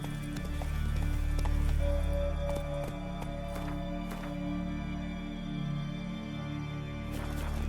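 A horse gallops in The Witcher 3, its hooves pounding in a steady clip-clop rhythm close by, with a dense game soundtrack and ambience underneath throughout.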